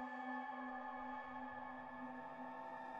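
A wavetable synth preset from a round wavetable pack holds a sustained note with rich overtones like guitar feedback, layered with vinyl-style distortion and a faint noise bed.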